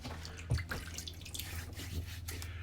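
Water drips quietly at a bathroom sink while a face is re-wetted before shaving: a couple of soft, separate drips over a low, steady background hum.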